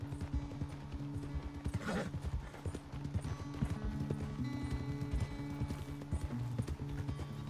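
Horse hooves from the video game Red Dead Redemption 2 clop in a steady trotting rhythm, close and clear over a low musical bed, with a short whinny early on.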